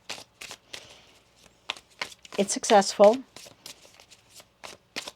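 Tarot cards shuffled by hand in a quick riffling burst, close and crisp, with soft taps around it and a voice talking over parts of it.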